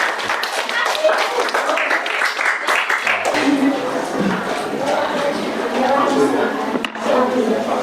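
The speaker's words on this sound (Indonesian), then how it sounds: "tepuk tangan dong buat kita semua" A school economics class bursts into loud, dense applause, many hands clapping together at close range and thinning toward a rustling clatter with voices mixed in.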